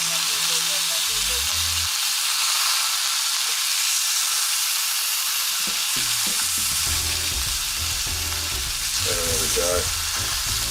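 Pork chops with rendering back fat sizzle and fry loudly and steadily in a hot pan, with scraping and turning sounds from the cook midway; someone speaks briefly near the end.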